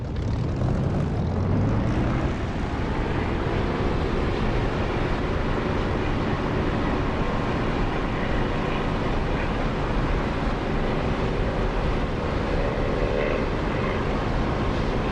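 A propeller aircraft roars down the runway and climbs out in the DCS flight simulator, a steady, loud engine drone filling the whole stretch with a rising pitch early on and no talk.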